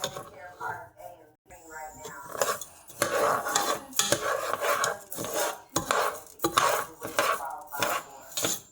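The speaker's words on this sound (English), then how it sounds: "So I'm just going to keep stirring for about 4 minutes." Red rice is stirred in a pot with a spoon scraping and knocking against the metal in steady repeated strokes, close by, with a voice talking over parts of it.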